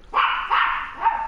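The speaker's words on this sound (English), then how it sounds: "I'm sorry if you can hear my dog barking" A dog barks three times in quick succession, each bark loud, close and somewhat drawn out.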